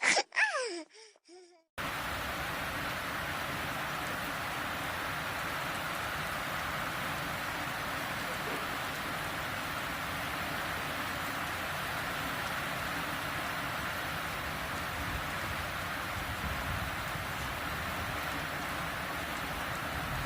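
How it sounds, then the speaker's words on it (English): Steady rain falling outdoors, a continuous broadband hiss of drops on surfaces that holds evenly for the whole stretch after a brief quieter moment at the start. "Gomu, it's raining outside."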